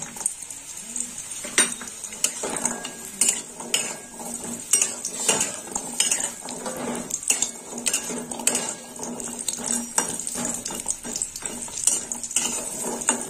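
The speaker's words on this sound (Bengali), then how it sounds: "এবার বড়িটা ভেজে নেব।" Lentil dumplings (bori) fry in hot oil, with a continuous sizzle broken by frequent sharp knocks and scrapes of a utensil stirring in the pan.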